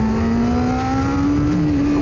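A restored 1989 Yamaha FZR 400 motorcycle engine holds a loud, steady high rev, a close continuous buzzing whine with the pitch rising slightly.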